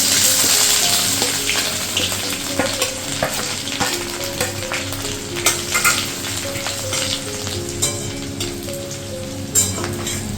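Chopped ginger and garlic fry in a wok with a loud, crackling sizzle and occasional stirring clatter, sharp pops scattered over a constant hiss, with a faint tonal hum running underneath and no talking.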